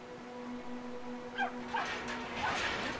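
A puppy in the video game Brothers: A Tale of Two Sons gives a few short yips and whimpering barks in quick succession over a low steady game background.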